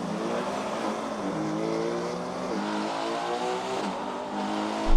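A Ferrari Purosangue and a BMW X5 M drag racing side by side, their engines roaring loud and continuous with rising, stepping pitch through gear changes, blaring close throughout.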